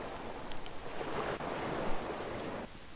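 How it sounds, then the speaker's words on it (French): Ocean waves roll and wash steadily in the game Legend of Grimrock 2, a loud, continuous surf with a brief swell and a sudden drop near the end, no voices present. "J'ai l'impression que le son des vagues sont très forts."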